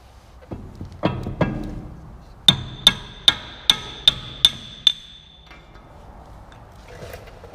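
A hammer strikes a chisel while working on an Eversman 600 self-loading scraper, with a few uneven knocks and then seven sharp, ringing metallic blows at a steady beat, loud and close, before things go quiet.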